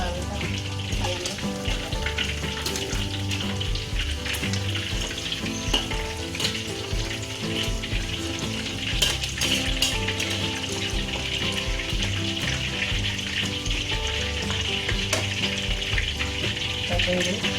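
Chicken in a pan on the stove sizzles steadily after water is added, an even, crackling hiss with light bubbling and occasional stirring clatter that runs unbroken.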